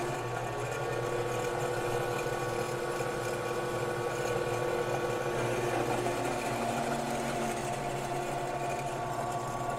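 A drill press motor runs continuously with a steady whirring hum and tonal whine, close and even in level, the pitch shifting slightly as its speed control is turned up; no talking.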